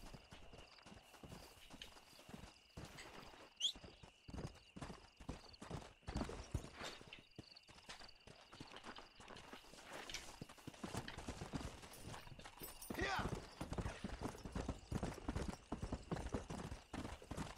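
Horse hooves clip-clop at a brisk, irregular gait in Red Dead Redemption, a continuous run of close, crisp hoofbeats lasting throughout with a few louder strikes and no talking.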